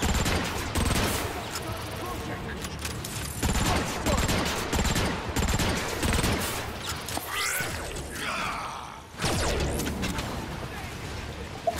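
Heavy, continuous gunfire rattles through Transformers: Rise of the Dark Spark, loud and dense, with crashing impacts and whooshing effects layered over it and a short lull before another burst.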